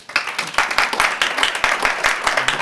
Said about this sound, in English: Or why don't we again give Priscilla a round of applause.